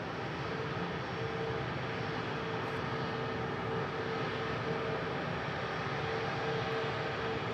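Airbus A320-200 jet at Manchester Airport, a steady, fairly faint engine roar that holds constant throughout with no voices.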